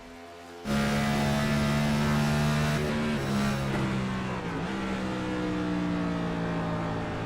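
A 2024 ICON Cup Series race car at Phoenix roars loudly and steadily from close by, its engine note stepping down in pitch through a couple of quick downshifts before holding a sustained drone into the corner.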